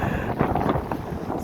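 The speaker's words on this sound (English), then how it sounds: "it's so windy and snowy and wet and ice." Strong wind during a snow storm by a barn buffets the microphone with a loud, continuous gusty rush and rumble, close and unbroken, with no talk.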